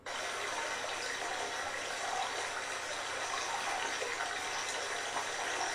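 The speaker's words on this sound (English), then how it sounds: "Let's try babbling brook sounds." Babbling brook sounds played from an Amazon Alexa smart speaker: steady rushing, bubbling water flowing continuously at a soft, even level, like a gentle stream, with no voices.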